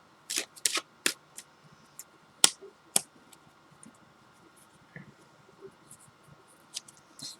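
Tarot cards are shuffled and drawn close by: sharp, papery riffles and snaps come in irregular clusters, separated by quieter handling and soft rustles.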